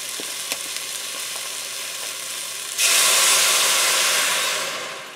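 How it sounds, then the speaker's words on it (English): Julienne soup vegetables frying in a pot give a steady close sizzle that suddenly swells into a louder, brighter hiss about halfway through, then fades slightly at the end. "They're starting to fry up. They're gonna fry for a few minutes, and then we're gonna add our broth."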